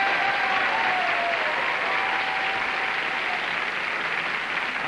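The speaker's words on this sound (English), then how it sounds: "Would you applaud Shelley Cheshire and Tom Hendricks?" A 1977 Match Game PM studio audience applauds the contestants with a steady, dense clapping that stays even and fairly loud throughout, a few faint voices hidden beneath it.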